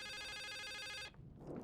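An old telephone rings in The Suicide of Rachel Foster, a loud, continuous metallic bell trill that cuts off abruptly partway through, leaving faint room noise.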